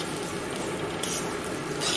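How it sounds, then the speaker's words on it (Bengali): Flattened rice (chire) fries in oil while being stirred constantly, making a dense, steady sizzle and rustle that is close and fairly loud throughout. "তেলেতে চিড়েটা দিয়ে দিলাম। এবার এটাকে কন্টিনিউ নেড়ে যেতে হবে"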